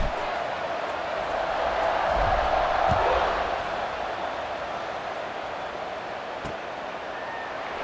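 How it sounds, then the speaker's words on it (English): A football stadium crowd at a Troy vs. Missouri game buzzes with a steady, dense roar, with a few brief thumps and no clear speech. "this crowd is buzzing after that last score"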